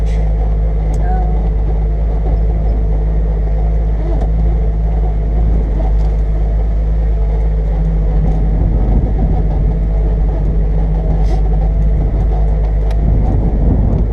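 A vehicle engine pulls steadily uphill in low range on a mountain grade at about 7,200 feet, a loud continuous low drone running throughout with people talking over it.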